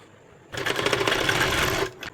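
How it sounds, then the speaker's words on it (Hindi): An electric sewing machine running a short stitch line along the edge of a yellow fabric strip on a sleeve, a steady, rapid, loud mechanical whirr lasting about one and a half seconds, then a brief final burst. "अब हम इस पीली पट्टी के बिल्कुल किनार पर छोटी सिलाई चलाएंगे यहाँ पर"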